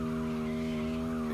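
In CarX Drift Racing 2, a car with a 6.2 litre engine drifts with a steady, high-revving engine drone under a sustained, loud tire squeal, holding constant without a break.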